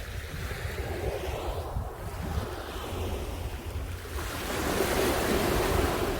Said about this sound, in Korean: 파도 치는 소리 너무 아름답지요.